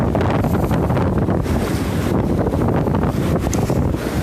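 Wind and surf at Cassino beach roar continuously, heavy gusts buffeting the microphone over a broad wash of breaking waves, loud and steady with no voices.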